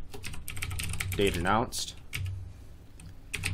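Quick bursts of clicky keystrokes on a computer keyboard, typed in short clusters around a brief spoken phrase, close and crisp.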